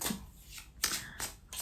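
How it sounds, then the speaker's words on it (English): A card drawn from a journey card deck, with soft papery slides and shuffling strokes in a few quick close bursts, quiet and alone. "I'm going to pull a journey card"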